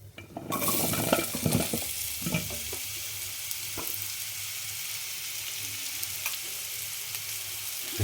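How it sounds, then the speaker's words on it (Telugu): Cucumber pieces drop into a hot pan of oil with curry leaves and turmeric, setting off a loud burst of frying. A few clatters of stirring follow before the sound settles into a steady, hissing sizzle. "ఇప్పుడు ఈ దోసకాయ ముక్కల్ని ఇందులో వేద్దాం"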